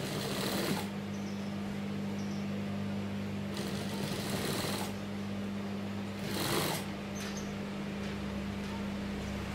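A sewing machine stitches fabric for a dress bodice's shoulder and zipper seams, a steady close mechanical hum with a few brief louder surges as the stitching speeds up, and no talking.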